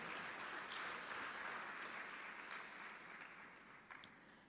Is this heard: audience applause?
yes